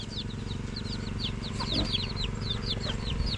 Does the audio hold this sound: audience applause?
no